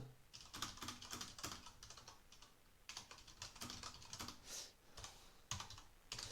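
Keys clatter on a computer keyboard in bursts of quick, irregular strokes with short pauses, close and moderately loud, no voices.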